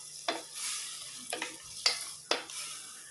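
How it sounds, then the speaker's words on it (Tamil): A ground spice paste is mixed into a jackfruit curry in a pan, heard as four quiet, separate scraping stirs over a soft faint sizzle, with no talking. "சேர்த்துட்டு நல்லா மிக்ஸ் பண்ணி விட்டுக்கலாம்."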